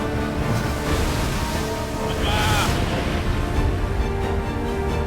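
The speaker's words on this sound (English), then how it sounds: "Atlantic Ocean, surfing down the waves, boat that handles like a dream in this stuff." Continuous rushing water and surf roar around a racing sailboat surfing down Atlantic Ocean waves, loud and close, with wind noise blending into the steady wash.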